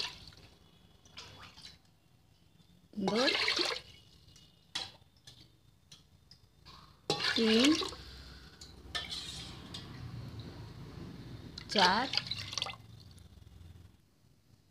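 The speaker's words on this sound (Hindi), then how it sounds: "उसी से हम 4 कटोरा पानी डालेंगे।" Bowlfuls of water are poured into a container of rice for making rice papad, with three separate splashing pours a few seconds apart. A woman counts aloud in Hindi between the pours.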